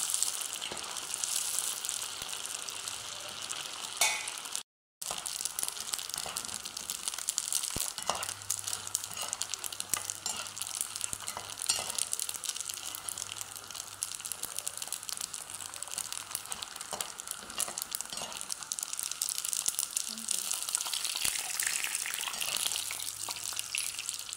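Macaroni snack pieces fry in hot oil while being stirred, giving a steady crackling sizzle with scraping and a brief gap in the middle, no talking.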